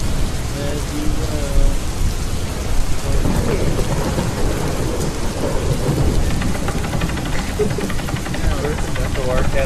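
Video game rain: steady heavy rain pours down with rumbling thunder rolling underneath, a dense continuous wash of storm noise.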